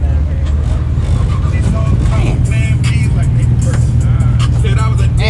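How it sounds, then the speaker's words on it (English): A Nissan 370Z Nismo pulls away from a stop, its engine giving a steady, loud low rumble over several seconds outdoors, with voices murmuring in the background. "We got a 370Z Nismo finna take off."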